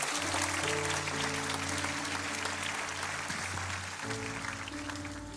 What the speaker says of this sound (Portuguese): Será que você pode aplaudir ao Senhor pela palavra dele?